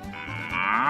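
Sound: cow mooing sound effect from Moo Moo Meadows, Mario Kart 8 Deluxe video game

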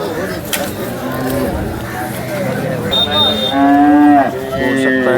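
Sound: cow mooing

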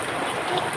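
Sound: heavy rain

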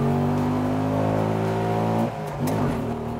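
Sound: Bajaj Qute engine accelerating through the gears

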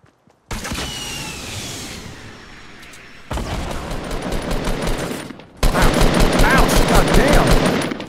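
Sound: gunfire in the video game Fortnite

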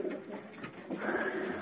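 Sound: pigeons cooing in a pigeon loft

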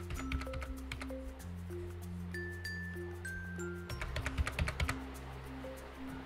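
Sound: typing an address on a computer keyboard

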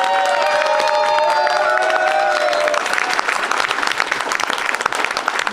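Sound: applause and cheering at a celebration

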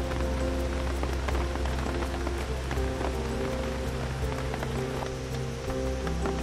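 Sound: heavy rain falling at a campsite

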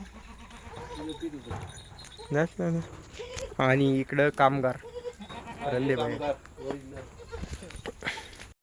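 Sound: Kathiawari goats bleating on a goat farm

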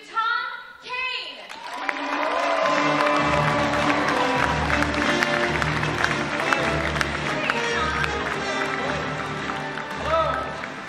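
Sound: audience applause and cheering for Tom Kane

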